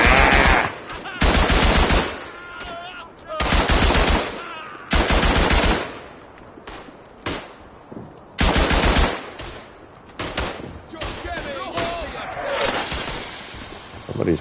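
Machine gun fire in a WW1 eastern front video game, loud sustained bursts repeating with short gaps, close and dominant, mixed with other gunfire and game noise.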